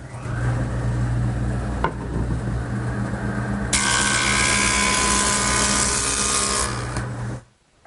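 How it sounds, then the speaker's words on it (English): A wood jointer planes the sawn edge of a board in a woodworking shop: a steady motor whine, then a loud, bright cutting roar as the board feeds across the cutterhead for several seconds before it stops. "the joiner will make it perfect"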